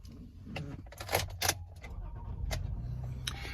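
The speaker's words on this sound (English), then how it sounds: "Start the car." Car ignition with keys: a jangle of keys and clicks, then an engine cranking and settling into a low, steady idle rumble, close and moderately loud with no talk.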